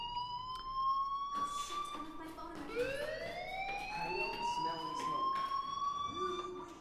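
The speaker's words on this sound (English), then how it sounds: "Hey, do you hear that fire alarm?" In the Life is Strange video game, a fire alarm wails in rising, overlapping electronic tones that sweep upward and hold, fairly quiet under faint background murmur.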